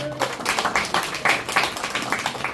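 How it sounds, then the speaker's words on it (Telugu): Audience clapping at a church fellowship gathering: a moderate, steady patter of many hands applauding, fairly close and continuous for a couple of seconds. "మీరు ఇంత మంచి సహవాసం, ఇంత మంచి ఫెలోషిప్ ఇచ్చినందుకు అందరం ఒకసారి చప్పట్లు కొడదాం"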